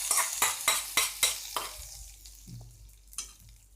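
Tempering is stirred into a pot of mappillai sodhi, a Tirunelveli coconut-milk stew. About six rhythmic scraping strokes of a spoon against the pot come with a soft sizzle and then fade to quieter clinks.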